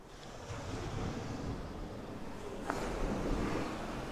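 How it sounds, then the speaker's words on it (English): Sea waves wash steadily onto Blackpool South Beach at high tide, a continuous broad roar of surf mixed with gusting wind buffeting the microphone. "I thought we'd just pop out and do a quick sounds of the sea"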